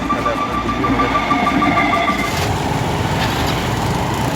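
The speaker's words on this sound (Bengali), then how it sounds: "ট্রেন চলে এসছে" A train rumbles past the Balagarh railway level crossing on the Katwa–Bardhaman line, a loud, steady broadband roar heard close by, with no talk.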